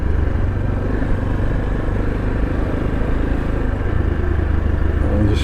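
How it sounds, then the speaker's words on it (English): A motorbike runs steadily on a mountain road in Azad Jammu and Kashmir, its engine a close, continuous rumble with rattling clatter and no clear stop, no one talking. "I'll just stop the motorbike and face it"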